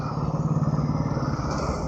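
A motorcycle carrying a food delivery rider runs steadily with a low, pulsing engine drone and wind rumble, close and continuous throughout.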